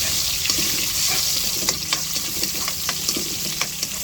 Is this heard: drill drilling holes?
no